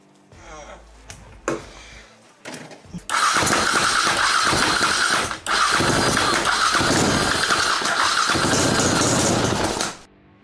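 A Himalayan motorcycle swapped to a 60 hp engine and fitted with a cheap twin exhaust cutout cranks briefly with a few sputters, then fires into a loud, steady, close idle that runs for several seconds before cutting off.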